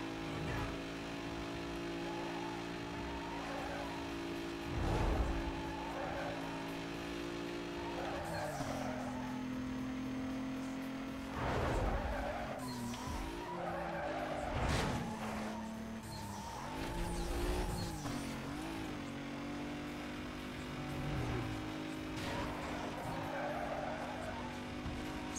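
A Porsche Cayman S in Need for Speed Most Wanted races with a droning engine note that shifts pitch through gears, broken by repeated tire skids and squeals on corners and a few impact bursts, loud and continuous without voices.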